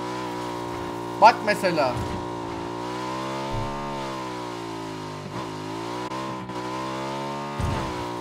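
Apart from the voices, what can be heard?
motorbike engine in the video game PUBG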